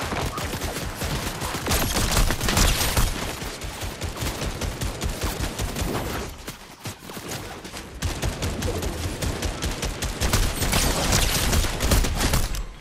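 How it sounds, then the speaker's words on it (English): Dense gunfire exchange in a battle-royale video game match, rapid overlapping shots and bursts from several weapons, loud and nearly continuous, with a brief lull midway before the firing picks back up. "Shots fired."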